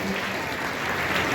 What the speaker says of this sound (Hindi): सब जितने पुरुष महिलाएं सब तालियां बजा दीजिए